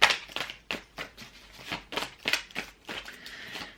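A relationship tarot card deck is shuffled by hand close up, giving a run of soft papery riffles and slaps in quick, uneven bursts.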